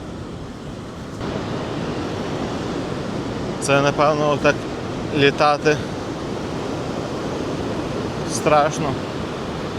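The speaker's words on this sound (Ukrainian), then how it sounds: "Зараз покажу вам поближче хвилі." Ocean waves surf onto the beach at Saint Augustine, Florida, a steady broad wash filling the whole clip, with brief bursts of talk over it.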